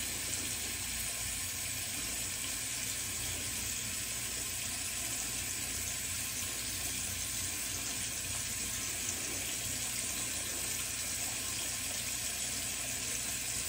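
A faucet runs in a bathroom sink as tap water rinses a shaving brush, producing a steady, close, loud stream that continues unbroken throughout with no voices.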